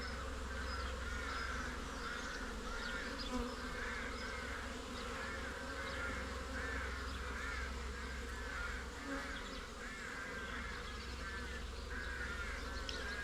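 Honey bees buzz in a dense, steady drone while a beehive frame holding eggs is inspected, the hum staying close and even throughout with no talking.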